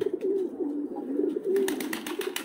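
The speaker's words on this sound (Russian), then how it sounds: "Горлицы, дикие голуби, подобия." Wild turtle doves coo in Tbilisi, Georgia, giving a soft, repeated low cooing phrase close by, followed by a brief burst of rustling or fluttering.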